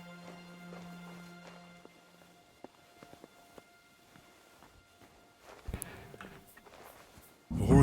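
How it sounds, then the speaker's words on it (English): Horse hooves clip-clop at a walking pace in the medieval game Kingdom Come: Deliverance, soft, irregular thuds at moderate distance. Faint ambient tones play, and a louder burst of noise comes near the end. "The horses are here."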